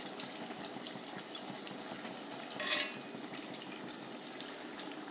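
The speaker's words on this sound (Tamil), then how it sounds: "இதே மாதிரி எல்லா ரொட்டியையும் நம்ம பொறிச்சு எடுத்துடலாம்." Sri Lankan paal rotti frying in oil in a pan, giving a soft continuous bubbling sizzle with occasional small pops and a brief louder flare near the middle.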